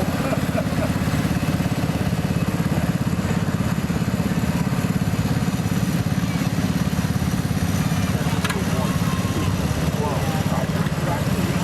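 Antique tractors rumble past in a county tractor show parade, their engines a steady low chugging drone that runs continuously while an announcer talks over the top.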